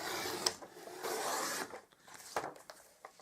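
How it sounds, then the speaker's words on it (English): Scissors cut out paper squares for envelopes with soft, close rasping snips and rustles in short bursts, faint and irregular, with no talk. "So I'm just going to cut out my two 5x5s for a couple more envelopes."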